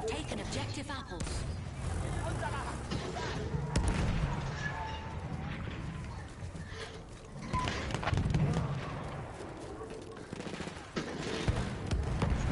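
Gunfire from Battlefield 1, a World War I shooter, plays as steady bursts of rifle and machine-gun fire across a busy battlefield, with a voice talking intermittently over the shooting.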